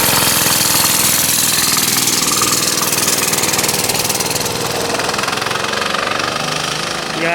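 A mini bike engine runs loud and close on a test ride with a steady, fast knocking putter that holds almost unchanged throughout.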